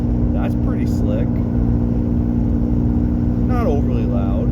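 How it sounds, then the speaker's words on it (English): A 1986 Camaro's 2.8 V6 with long-tube headers, true dual exhaust and a small header gasket leak idles in a steady low drone, with someone talking over it. "Not overly loud. It's got a little exhaust header gasket leak over here"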